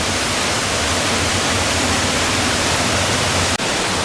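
Onondaga Falls, a waterfall on a hike past many falls, gives a steady, loud broadband rush of falling water that fills the whole clip, with one brief dip near the end.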